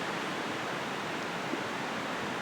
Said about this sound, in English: Sound of the river.